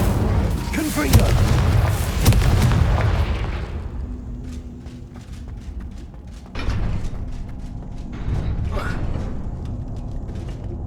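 Confringo blasting spell fired in Hogwarts Legacy: a loud fiery burst opening the clip, followed by rumbling, creaking debris and a second smaller blast around the middle, with the game's ambience beneath.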